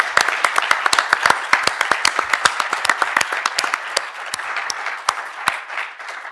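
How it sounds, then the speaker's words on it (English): A conference audience on the closing day gives a round of applause for the team, many hands clapping in a lively, uneven patter that stays loud and then thins slightly toward the end. "please put your hands together and give them a huge round of applause"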